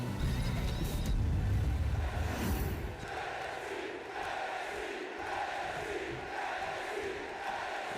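A wrestling arena crowd in the WWE 2K video game roars loudly for a couple of seconds, then settles into a steady, fainter crowd murmur and cheering, with no talk.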